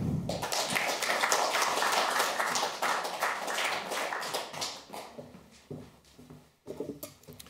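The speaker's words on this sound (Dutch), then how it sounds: "Geef hem graag een warm applaus" Warm applause from an audience at a public lecture evening, a dense crowd of hands clapping steadily, then thinning into scattered claps near the end.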